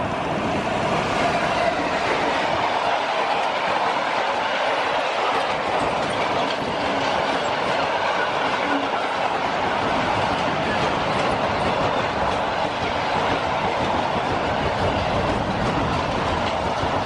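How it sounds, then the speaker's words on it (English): A water train rumbles past steadily near Bletchley for the whole stretch, with a dense, continuous roar and faint clickety-clack of wheels on rails. "the good old water train, that's not going to let us down"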